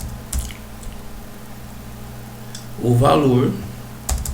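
Keys clatter on a computer keyboard during a programming lesson: scattered light clicks near the start and end, with a short stretch of talking in the middle.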